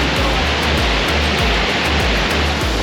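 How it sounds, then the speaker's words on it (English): A tall waterfall near hot springs in Oregon roars loudly and steadily, a constant broadband rush of falling water with no pauses, heard up close on a hike. "it's the meanest looking waterfall I've seen."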